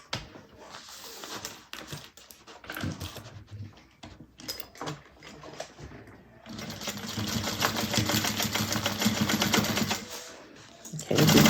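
A sewing machine stitches down the side, bottom and up the other side of a bag's zipper pocket, opening with short, scattered bursts and clicks before settling into a long, steady run of rapid whirring close by.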